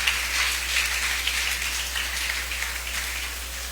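Sustained applause from a church congregation during a Spanish-language sermon, a steady dense patter of clapping that fills the whole stretch evenly with no voices.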